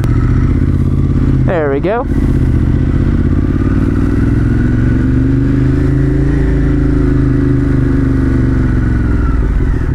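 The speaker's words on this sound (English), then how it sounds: "It is a monster, isn't it? Let's go ride it." A 2018 Ducati Monster 1200 S motorcycle pulls away on public streets, its engine droning loud and steady for the whole stretch, with a brief rising rev near the start and a voice speaking over it.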